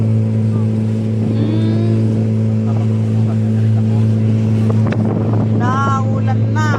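A motorboat ferry engine on a flooded river at the Sta. Maria–Cabagan crossing drones steadily and loudly at close range throughout, with wind buffeting and people talking over it.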